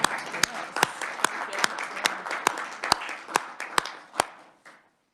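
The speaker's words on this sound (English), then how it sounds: "We're going to give you a round of applause." A room at a Senate education committee hearing breaks into a round of applause for a guest, a dense patter of clapping with louder individual claps standing out, dying away after about five seconds.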